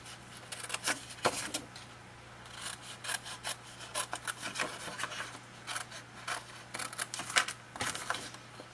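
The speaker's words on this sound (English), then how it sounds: "So you use your scissors for that." Scissors snip through paper while a scrapbook mini album is being made, giving a close series of short, crisp cuts in uneven bursts with no talking.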